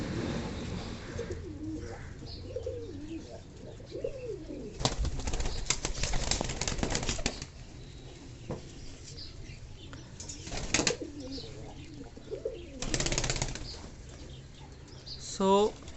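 Fantail pigeons, a white male and a blue bar female, give soft throaty coos along with bursts of wing flapping and rustling, while someone talks at moments.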